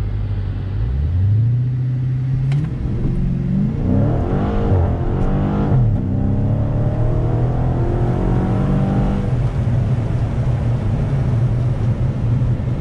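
A Mopar car launches for a 0-60 run and spins its tires on rough pavement, its engine rumbling low then revving up in rising, sweeping pitch, loud and close, with no talk.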